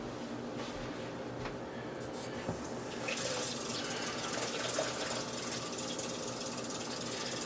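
Water pours from a tap over a dried ancho chili and two garlic cloves, filling the container with a steady close rush that swells after the first few seconds and then holds.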